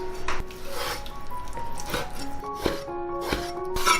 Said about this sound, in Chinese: 然后剁成肉碎。